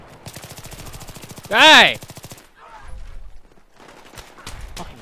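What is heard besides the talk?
gunfire from a big gun in video game Battlefield 3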